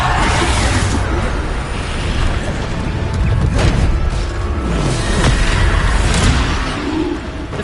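Bombarda blasting spell from Hogwarts Legacy during the Niamh Fitzgerald trial, loud booming explosions with rumbling bursts over several seconds, amid dense game combat noise.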